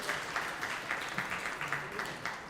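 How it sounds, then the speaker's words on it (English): Quiet applause from a board of education meeting audience, a soft, steady patter of many hands clapping at a distance with no voices over it. "Big round of applause for Mr. Mullins."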